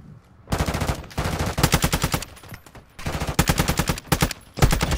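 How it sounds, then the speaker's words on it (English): A turret machine gun fires in a video game, loud rapid bursts of automatic gunfire in several long strings separated by short pauses. "A turret."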